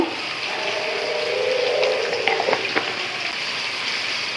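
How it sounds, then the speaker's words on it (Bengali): Vegetables sizzling in a pan with turmeric, salt and coriander powder, a steady close hiss of frying with brief scraping stirs partway through, no talking. "এখন নেড়ে চেড়ে সবজিটাকে কিছুক্ষণ ভেজে নেব"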